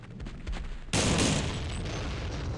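Gunfire aimed at a zombie in the video game They Hunger: a sudden loud, dense burst of shots at close range that holds steady for over a second, with quieter game noise before it.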